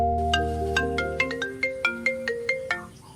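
A phone rings during an outgoing call with a melodic electronic ringtone, a short run of bright repeating tones that fades out near the end, heard alone with no voices.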